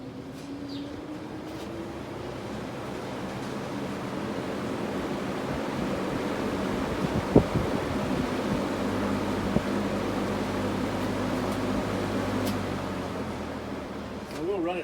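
Vintage box fan from Lakewood, McGraw, Lasko or GE running on high, a steady whooshing airflow with a low motor hum throughout, broken by a couple of brief knocks near the middle.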